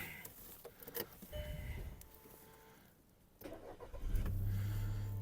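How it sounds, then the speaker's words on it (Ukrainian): A 2005 Volkswagen Golf 5 with a 1.6 MPI engine and automatic gearbox is quietly cranked after some faint clicks and rattles, then settles into a low, steady idle for the last second. "Перевіримо стан роботи двигуна."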